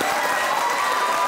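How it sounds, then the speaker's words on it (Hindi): Studio audience applause on a Pakistani comedy show, a dense continuous wash of clapping with some crowd noise, loud and even for the whole short stretch. "तालियां होनी चाहिए भाई राबिया के लिए"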